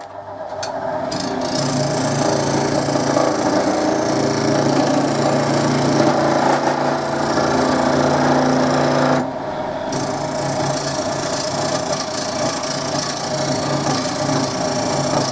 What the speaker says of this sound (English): I'm just going to go with the skew just to straighten off this side.